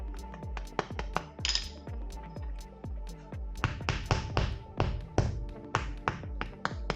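A garage door seal is tapped into place in a home garage, a series of sharp, close taps in an irregular rhythm, each ringing briefly, with faster clusters toward the end.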